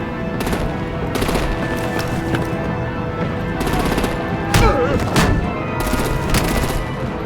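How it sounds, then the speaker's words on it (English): Rapid automatic gunfire and bursts of shots in a Batman Telltale video game battle, loud and sustained in repeated volleys with short gaps between them and faint voices mixed in. "Break out the artillery and disable their vehicles!"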